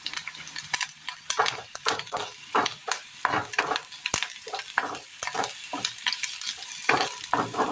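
Grated coconut sautéing in a pan with turmeric powder for a Kerala curry: steady sizzling under repeated scraping and stirring strokes of a spoon against the pan, close and fairly loud.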